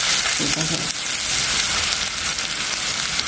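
Green chillies and ginger fry in oil and ghee, a close, steady hissing sizzle with faint stirring throughout and a brief murmur of voice early on.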